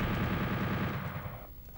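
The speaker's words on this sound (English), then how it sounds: "Now the chain gun in this game looks pretty intense." Chain gun firing in Doom 64 on the Nintendo 64, a rapid, evenly spaced burst of loud shots that stops after about a second, leaving a fading tail.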